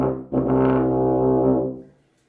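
A single sustained low tuba note sounds alone, rich and buzzing, starting abruptly, holding steady for over a second and then fading out.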